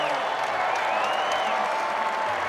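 Crowd at a college wrestling match in Blacksburg applauds and cheers continuously, a thick wash of clapping with a few whistles rising above it.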